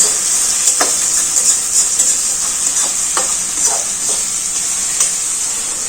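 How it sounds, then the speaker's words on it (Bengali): Desi chicken with ginger-garlic paste fries in a pan under a steady, loud hiss, with occasional soft spatula scrapes and stirs. "আদা রসুনের পেস্টটা দেওয়ার পর একদম একটু কষাতে হবে"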